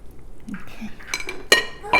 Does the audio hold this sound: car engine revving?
no